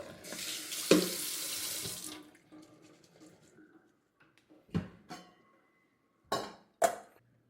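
Water pouring from a pan into a sink while cooking squid stir fry: a steady splashing rush for about two seconds, then quieter, followed by a few sharp clanks of the pan.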